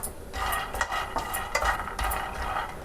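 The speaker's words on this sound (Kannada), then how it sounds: "ನೀವಿಲ್ಲಿ ಕೈಯಾಡ್ತಾನೆ ಇರಬೇಕು" Groundnuts dry-roasting in a pan over a low flame, stirred continuously, giving a close, rhythmic rattling scrape with small clicks of nuts shifting against the metal.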